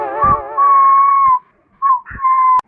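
A man whistles a clear, steady tune in two phrases with a short pause between them, close and fairly loud, with no talking.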